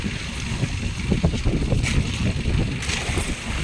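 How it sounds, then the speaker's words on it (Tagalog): Steady, loud wind buffeting the microphone on a fishing boat over open water in the Philippines, with a constant low rumble and gusty surges throughout. "malakas ang hangin"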